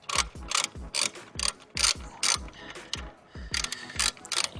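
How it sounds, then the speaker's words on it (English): A 4mm hex socket on a ratchet tightens a frame slider bolt on a 2021 Aprilia Tuono V4 Factory motorcycle, producing close, crisp bursts of ratcheting clicks repeated about ten times in a steady rhythm. "And then you use a 4mm socket, right? The hex socket."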